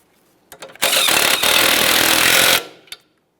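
An impact tool snugs up the front sway bar link mounting nut on a 2008–2017 Mitsubishi Lancer in a single loud, close burst of rattling hammering lasting nearly two seconds, framed by a few small clicks.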